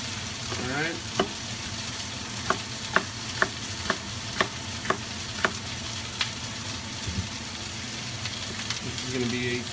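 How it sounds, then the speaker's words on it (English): Chopped jalapenos go into a sizzling pan for spicy cauliflower rice, a steady frying crackle under a string of sharp, evenly spaced utensil taps, close and moderately loud. "right now we got our jalapenos going in"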